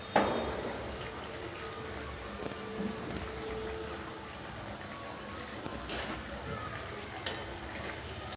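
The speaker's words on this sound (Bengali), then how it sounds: "ঠেকুয়াগুলো হয়ে গেছে ভাজা," Sweet thekua, a Chhath Puja treat, deep-frying in hot oil at home: a soft, steady sizzle with faint clinks of a utensil against the pan now and then.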